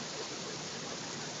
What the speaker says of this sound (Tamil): அப்படியே வந்தால் ஒரு சிறிய அருவியாக உருவாக்கப்பட்டுள்ள இடம்.